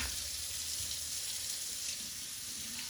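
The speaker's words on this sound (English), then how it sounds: "always use cold water when you're rinsing out any type of meat" Cold tap water runs steadily into a sink while a grass-fed brisket is rinsed, a continuous close hiss and splash with no talking.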